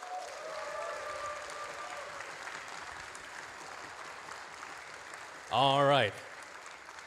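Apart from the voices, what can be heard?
audience applause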